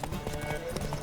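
Horse hooves galloping in the video game The Witcher 3, a quick rhythmic clip-clop of repeated hoofbeats under someone talking over them.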